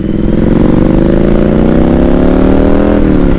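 A motorcycle engine revs loud and close, its pitch rising steadily as the clutch is let out and the bike pulls away from a stop in traffic, then the note dips near the end.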